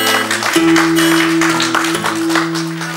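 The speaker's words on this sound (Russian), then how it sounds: "Хлопайте." Loud audience applause, a dense wash of clapping over sustained music tones, steady throughout.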